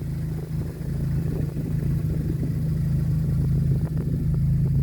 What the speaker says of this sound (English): hence why the exhaust note has got a nice ring to it.